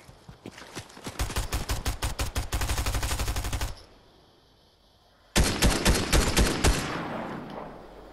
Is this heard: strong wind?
no